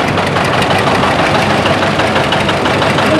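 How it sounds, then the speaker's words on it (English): A 1961 Ford 2000 small diesel tractor pulling a two-bottom plow at a plow day runs close by, with a loud, steady, slightly knocking diesel chug throughout. "driving a 1961 Ford 2000 little diesel model here, beautiful tractor"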